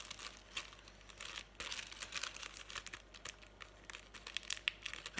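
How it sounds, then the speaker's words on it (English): Plastic wrapping crinkles and crackles in quick, uneven bursts as it is pulled off a mermaid frame, close and fairly quiet, with no voices. "I'll take it out of the wrapper because the light's shining on the plastic"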